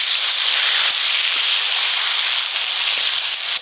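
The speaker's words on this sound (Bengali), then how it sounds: "গরম তেলে প্রথমেই দেব টমেটো কুচি" Chopped tomatoes hit hot mustard oil in a pan, a loud, continuous bright sizzle and hiss that holds steady throughout with no talking.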